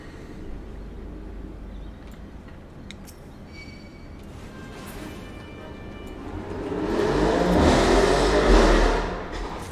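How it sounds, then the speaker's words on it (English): A loud car revs outside, its engine droning steadily at first, then swelling into a stronger roaring rev that peaks and falls away near the end. "Fuck you and your loud car."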